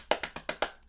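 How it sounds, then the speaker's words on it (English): Five quick, sharp hand claps in an even rhythm, close and fairly crisp, alone without talk. "Yeah, I'll do it every time I clap."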